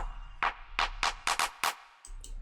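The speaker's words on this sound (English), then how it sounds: "I added this kind of clap loop which sounds like this" A run of deep house clap hits in a rhythmic loop, the tone opening and brightening across the hits as an automated filter sweeps, followed by a short pause and faint ticks.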